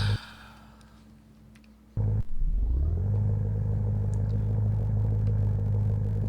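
A Mazda Miata engine in the video game Assetto Corsa VR, heard while drifting: a quiet idle, a brief cut, then a strong rev that settles into a loud, steady droning engine tone.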